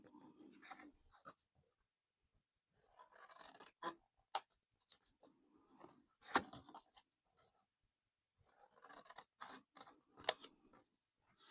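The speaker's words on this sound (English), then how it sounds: "I'm going to cut them up the middle." Scissors snip through paper in short, quiet, irregular cuts with pauses between them, close to the microphone and free of talk.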